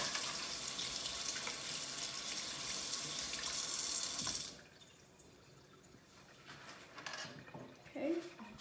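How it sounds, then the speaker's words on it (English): A bathroom or utility sink tap runs steadily with a broad hiss for about four seconds while hands are rinsed, then shuts off, leaving quiet room noise and a few faint clinks. "So I'm gonna go rinse off mine real fast."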